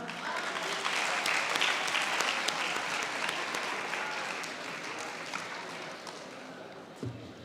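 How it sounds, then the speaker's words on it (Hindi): A crowd at an Urdu poetry mushaira at a university applauds a poet with loud, dense, sustained clapping that tapers slightly near the end, followed by a brief thump. "आपकी भरपूर तालियों में पारस मज़ारी"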